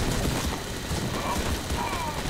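A minigun in the game Madness: Project Nexus pours out a dense, continuous stream of rapid gunfire, loud and unbroken throughout, with no clear gaps between rounds.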